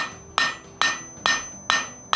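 Hammer planishing a forged steel blade, four sharp ringing metal strikes at a steady, unhurried rhythm, each ringing briefly before fading; close and loud, no voices.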